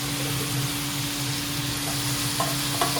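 Green beans sizzle steadily in hot oil in a pot, a loud, continuous frying hiss with a few faint clinks near the end.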